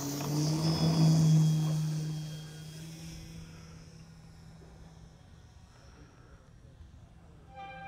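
An RC airplane powered by a T-Motor AM850 195Kv motor with an AM216 ESC and carbon fiber prop takes off, its steady tonal whine strong at first, then fading as it climbs away.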